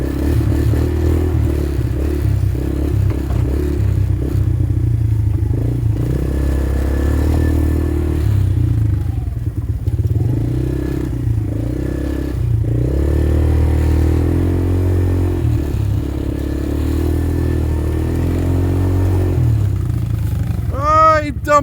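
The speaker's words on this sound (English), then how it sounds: "I'm riding the badass 70. Or what is this thing? I don't know what this thing is. 90? I think it's a 90." A small 70 or 90cc dirt bike engine buzzes and revs unevenly while being ridden, rising and falling in bursts with some clattering, mixed with people talking nearby.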